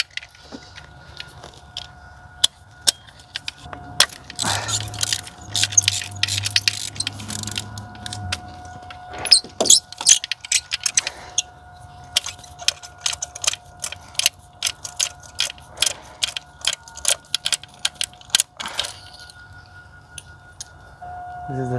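A magnetic socket works the spark plugs loose on a BMW F25 with the N20 engine, giving rapid, close, sharp ratchet clicks and metallic taps in bursts, with some quiet gaps and a few faint voices.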